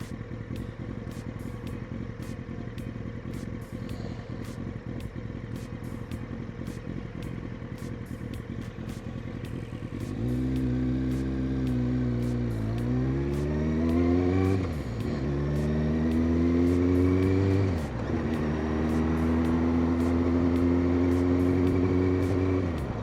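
Motorcycle engine during a ride, first a steady idle-like drone, then clear revving as the rider accelerates and shifts through gears, each shift marked by a falling then rising engine pitch, loud and close with no talk.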